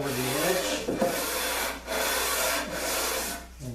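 Steady back-and-forth rasping of a 150-grit sanding block on wood edges, several long strokes with brief pauses between them, close and fairly loud.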